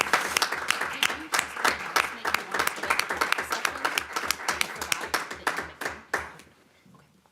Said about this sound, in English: I think she deserves a round of applause for her service